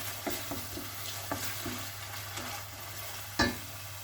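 Minced meat with onion and tomato paste is stirred and fried in a pan: quiet, low sizzling with several soft spoon clacks, and a sharper knock near the end.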